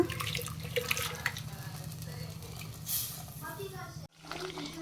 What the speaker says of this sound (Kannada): ಈ ಜಾರ್ಗೆ ಸ್ವಲ್ಪ ನೀರು ಹಾಕಿ